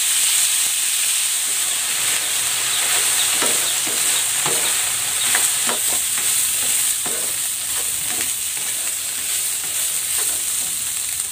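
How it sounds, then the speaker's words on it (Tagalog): Pork pan-frying in hot cooking oil gives a steady, dense sizzle and hiss, broken now and then by light scrapes of stirring in the pan. "I-pan-fry ko muna itong pork."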